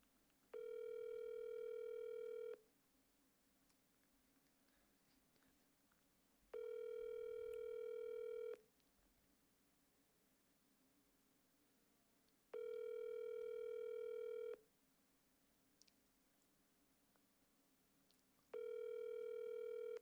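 A telephone ringback tone on an outgoing call repeats four times, each burst about two seconds long with roughly four seconds of quiet between. It plays steady and clear with no one talking.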